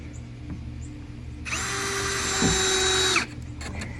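A HART cordless drill whirs for about two seconds, loud and close, then stops, as a screw is driven into a fence gate; quiet surroundings before and after.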